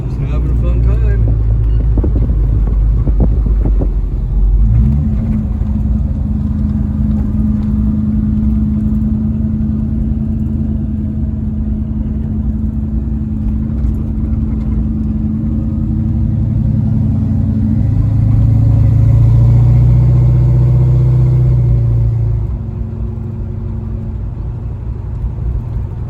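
A 1937 Chevrolet Suburban Carryall restomod with a fuel-injected 350 V8 cruises along the road, its steady low engine drone and road rumble continuous and loud throughout, with wind buffeting and a voice talking over it.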